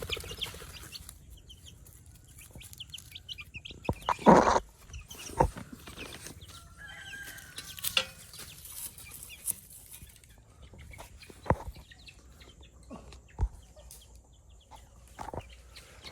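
White birds call outdoors by the sea in Anda, Bohol, with scattered, clucking, fowl-like cries. One louder burst comes early and fainter calls and clicks spread across a quiet background.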